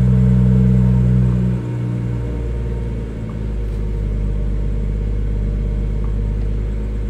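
A BMW M240i engine starts and settles into a steady, loud, low idle rumble that dips briefly after the initial start and then holds even, heard close with no talking.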